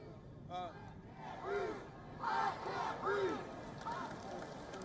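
Crowd at an anti-racism rally at the Lincoln Memorial in Washington, marking the anniversary of King's speech: rising chanted shouts and cheers swell in several waves over a steady murmur of many voices.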